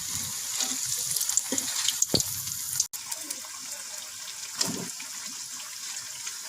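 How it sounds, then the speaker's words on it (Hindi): Tikka bites shallow-fry in oil over a low flame with a steady, hissing sizzle. Small pops and crackles break through the hiss now and then, and the sound stays close and even throughout, with no voices. "अब हम इसे लो फ्लेम पे हल्का हल्का फ्राई करेंगे।"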